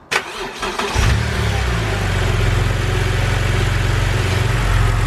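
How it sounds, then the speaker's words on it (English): A car engine with an oil flush additive cranks briefly, catches and settles into a loud, steady idle that continues to the end. "And now what we need to do is get this engine fired up."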